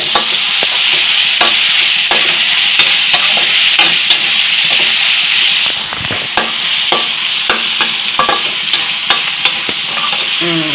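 Pork and garlic fry over high heat, a loud steady sizzle running throughout with repeated scraping clicks of stirring and one brief dip in the hiss midway; no voices.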